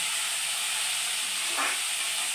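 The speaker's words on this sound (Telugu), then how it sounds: "క్యాబేజీ కొద్దిగా పచ్చివాసన పోయే వరకు ఇలా నూనెలో తిప్పుకోవాలి" Shredded cabbage stirred in hot oil for an egg kurma, giving a steady, even hiss and sizzle with a slight swell near the end, no voices.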